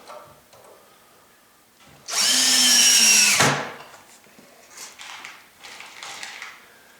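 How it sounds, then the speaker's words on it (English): A power drill with a low torque setting drives small 3/8 screws into a wooden CNC workbench, one loud whirring burst of about a second and a half between quieter shop sounds. "So we will drive these screws in."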